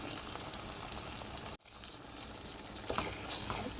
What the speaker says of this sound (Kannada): ಇವಾಗ ಈ ಹುಣಸೆ ರಸನ ಸ್ವಲ್ಪ ಬೇಯಲಿ